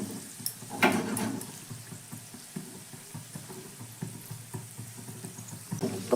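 Snack pieces are placed one by one into hot oil over a medium-low flame, giving a soft, low sizzle broken by small clinks and brief bubbling bursts, fairly quiet and without voices.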